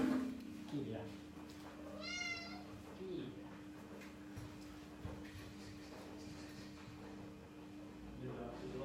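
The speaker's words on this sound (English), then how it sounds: "Now he's going to start meowing." A pet cat meows indoors in a brief, rising and falling call, close and clear, against a low steady hum, with a person talking nearby.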